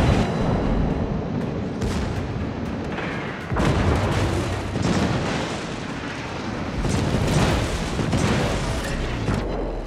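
Heavy naval guns boom repeatedly in a World of Warships battle aboard the battleship Brandenburg, with loud rumbling blasts and explosions rolling over a continuous low roar.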